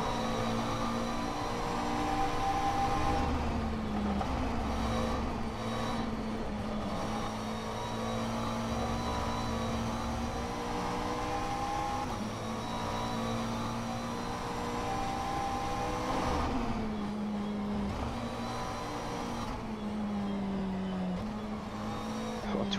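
GT3 race cars lap Silverstone in rFactor 2, a steady loud engine drone rising and falling with upshifts and downshifts as the car chases a McLaren, with no talk over it.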